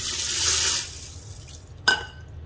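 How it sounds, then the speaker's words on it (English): Water is poured into a Ninja Foodi pressure cooker holding dry noodles, a brief gushing splash that tapers off, followed by a single sharp clink. "Now I'm going to add my water."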